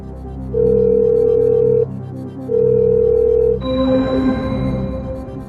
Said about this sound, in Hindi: मोहम्मद हुसैन को फोन लगाया जाए, वीडियो कॉल लगाया जाए कंप्यूटर महाशय